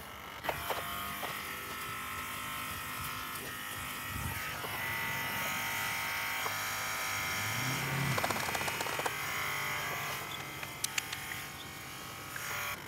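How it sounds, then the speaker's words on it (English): A vacuum pump for a Ford Super Duty vacuum hub lock system runs with a steady electric buzz and whine, holding fairly constant with slight pitch shifts and occasional clicks, close and alone without talk. "Vacuum pump is still running"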